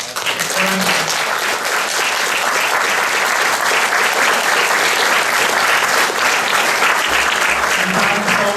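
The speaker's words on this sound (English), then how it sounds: "they should get a warm round of applause for the parents" Warm, sustained applause from a large graduation ceremony audience for the graduates' parents at a university mathematics commencement, steady and dense throughout with no pause.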